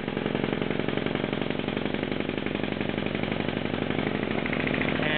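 An air-over-hydraulic puller pulls a rocker stud, giving a steady mechanical drone with a rapid pulsing hammer-like texture. It runs continuously at moderate level, shifts near the end as the stud releases, and has no voices.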